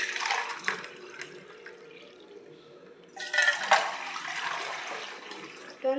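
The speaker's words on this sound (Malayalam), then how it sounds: "അത് വെച്ച് നമുക്ക് അത് ഇതിലോട്ടൊന്ന് ഒഴിച്ച് വെക്കാം" Water is poured from a cup into another container at home, a close splashing, gurgling pour that comes in short bursts, with a longer, fuller stream near the end.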